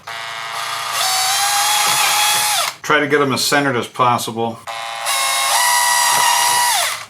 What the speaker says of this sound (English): I'm going to start drilling out all these holes.